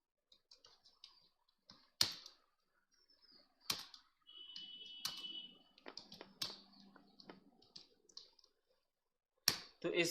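Computer keyboard typing and mouse clicks in Microsoft Word, heard as sparse, sharp clicks and taps in irregular bursts, with a few louder isolated keystrokes and faint background voice sounds between them.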